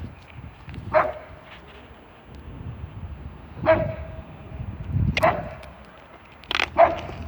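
A dog barks in single sharp bursts, four or five of them spaced irregularly, fairly close, with quiet background noise between barks.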